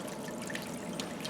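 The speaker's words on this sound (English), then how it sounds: "I can even have a fountain. Nice little water fountain while I'm camping." A small water fountain trickles at a campsite in the South Fork Recreation Area of a Nevada state park, near a reservoir. It gives a soft, steady, close trickle with brief splashy flecks and no voices.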